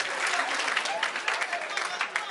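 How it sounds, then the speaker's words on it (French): A crowd claps steadily at a Guinean independence anniversary celebration, a dense, even wash of applause throughout. "Applaudissez pour ça."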